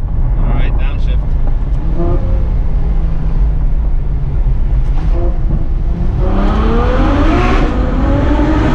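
A Ferrari F12 downshifts and then accelerates hard, its loud engine note rising steadily in pitch from inside the car, with a rushing wind roar throughout and brief voices over it.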